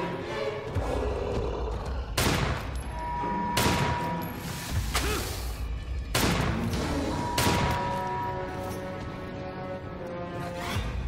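Gunfire in the survival horror video game Daymare 1998, several loud booming shots spaced a second or two apart over a constant rumbling game ambience, with no talk.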